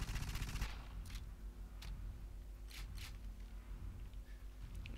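Gunfire from a powerful weapon in GoldenEye 007 on Wii, with a rapid burst at the start and then several sharp separate shots spread across a few seconds over a low game rumble.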